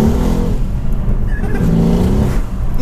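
A tuned 625 bhp Mercedes C63 S with a downpipe revs hard nearby, a loud continuous rising and falling engine roar with a brief blow-off valve hiss in the middle.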